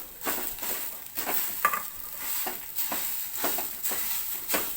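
Grated coconut being stirred into neer urundai rice dough in a pan, with a steady run of soft scraping strokes roughly every half second and a faint sizzle underneath.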